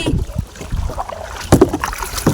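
A kayak or small boat moves on water at Kemmannu, giving short splashing and paddling bursts with light wind noise, close by and without talk.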